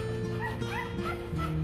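A Rottweiler puppy yips and whimpers in quick, high-pitched bursts, close by and fairly loud.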